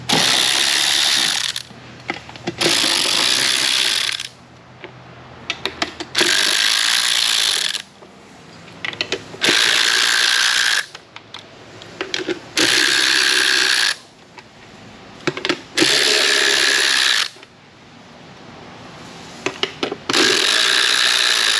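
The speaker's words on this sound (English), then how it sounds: "Next thing we have to do is just pull out all these bolts and pull off the air box." A hand ratchet clicks in repeated bursts, loud and close, as it backs the bolts out of the air box on a Mercury 115 outboard motor, with short pauses between runs.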